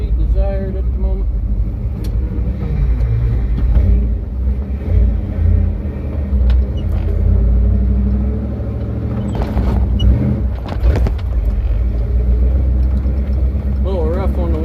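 A Ford F250 truck with a 347 stroker engine climbs a hill in second gear, its low engine rumble and drone steady and close throughout, while someone talks over it.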